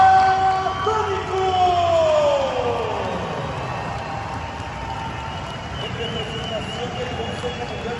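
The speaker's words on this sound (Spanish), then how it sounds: "la ovación en este escenario para el maestro número uno" An arena crowd at a wrestling event roaring in a sustained, distant ovation, with a whistle or whoop rising over it early on and an announcer's voice heard faintly.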